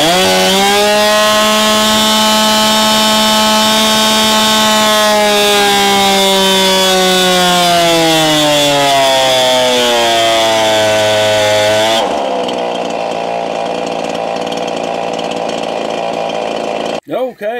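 Stihl chainsaw fitted with a velocity stack, warmed up and run on a dyno, screams loudly at a steady high pitch, then its pitch sweeps downward under load before the engine drops to a rougher, lower run near the end.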